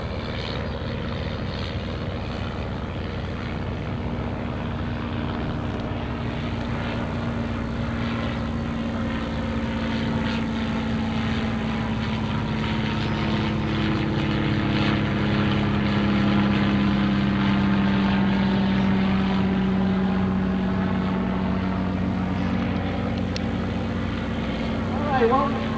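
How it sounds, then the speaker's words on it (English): World War II-era propeller trainer aircraft drone steadily overhead while circling, the engine tone rising and falling as planes pass, loud and continuous throughout. "While these airplanes are circling around"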